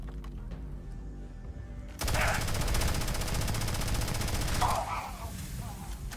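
Sustained automatic gunfire in the video game Starfield starts abruptly and rattles loudly for nearly three seconds, then cuts off, over quieter game ambience.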